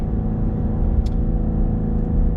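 A 2020 Cadillac CT5-V's engine and exhaust, a loud, steady low rumble heard close up for a brief moment, with no talking.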